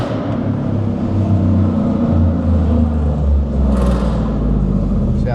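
A Ford F150 with a catless exhaust and a MagnaFlow muffler revs in first gear inside a parking garage, a deep echoing rumble that swells and eases under light throttle.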